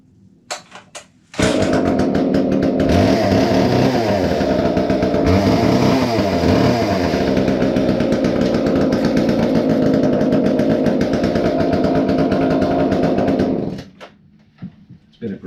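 A chainsaw in a workshop roars to life after being started, running loud and steady for about twelve seconds with a few revving swells near the start, then cutting off abruptly.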